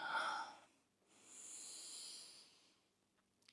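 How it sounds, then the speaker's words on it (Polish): Slow, deep abdominal breathing during a relaxation exercise: one breathy inhale, a pause, then one long soft exhale, close and quiet. "Zaczynasz sobie spokojnie, głęboko oddychać do tego splotu słonecznego, plexusa solarisa."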